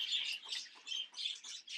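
Budgerigar of merchant derivative type at a breeder's aviary, chirping in a continuous series of bright warbling chirps, close and moderately quiet, with no voices.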